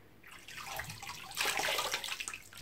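Water runs from a tap while someone washes their face at a sink, a steady close splashing rush that swells and shifts as hands move through the stream, with no talking.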